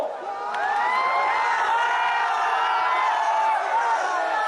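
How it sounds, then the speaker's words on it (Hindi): A large crowd at a political rally on Ramgarh ground in Kaimur, Bihar, chants the name of Lord Ram, a sustained, loud roar of massed voices with rising and falling tones. "कैमूर के रामगढ़ मैदान में श्री राम के नाम का उद्घोष हो रहा था।"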